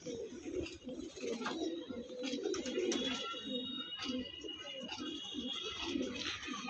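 Pigeons coo close by in soft, repeated throaty rolls, with a few faint chirps and background noise.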